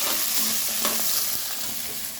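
Curry leaves and onions sizzle and fry in a pan for vatha kuzhambu, a steady crackling hiss with a few stirring scrapes and clinks, close and moderately loud.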